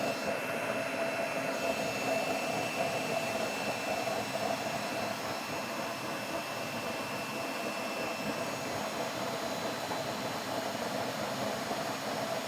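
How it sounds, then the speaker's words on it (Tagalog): Steady broadband roar of a used-oil stove's air blower running continuously at low setting, with a faint whine on top, constant level throughout and no voices. "mahina lang po blower natin yan"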